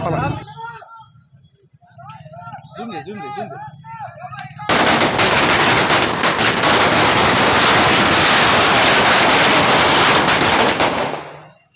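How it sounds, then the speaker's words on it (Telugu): Excited voices of fans shout briefly, then a long, dense barrage of firecrackers celebrating the film Kalki 2898 AD bursts loudly and continuously, crackling rapid-fire for several seconds before cutting off. "బ్లాక్ బస్టర్ టాక్ రావడంతో టపాసులు పేరుస్తున్నారు"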